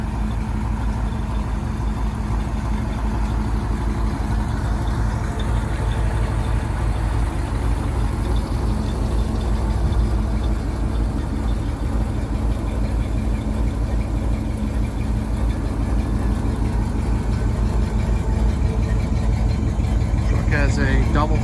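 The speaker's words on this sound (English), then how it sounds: "This is an air brake truck, Dayton wheels, original 427 truck." An original 427 engine in a 1967-72 GM medium duty air brake dump truck with a Daybrook dump body idles with a steady low rumble and faint knocking throughout, while someone talks over it.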